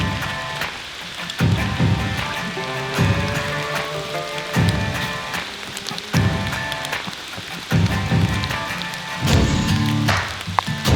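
Steady rain falls in a foggy forest, a dense, continuous patter with heavier gusts of drops swelling and easing in rhythm, close and fairly loud, with no voices.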